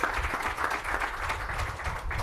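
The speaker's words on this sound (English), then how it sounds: "Let's give our panelists a round of applause," Audience applause for panelists at an MLS Works, Black Players for Change and 100 Black Men of America event, a steady wash of clapping from a crowd that holds evenly throughout without a break.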